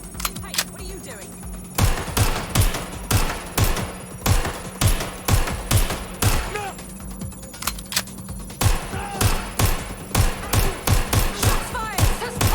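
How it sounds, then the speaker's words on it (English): Rapid bursts of gunfire from a shooting suspect in the video game Watch Dogs: Legion, loud sharp cracks repeating in clusters and volleys across the scene, with voices shouting between shots. "Shots fired! Suspect is shooting!"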